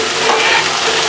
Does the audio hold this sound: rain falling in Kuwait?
no